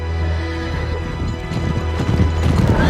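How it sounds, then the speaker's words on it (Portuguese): A troop of horses gallops in the PlayStation 3 game Uncharted 3: Drake's Deception, a steady dense clip-clop of many hooves with occasional whinnies, growing slightly louder over a continuous low rumble, with no talk. "Tropa dos cavalos."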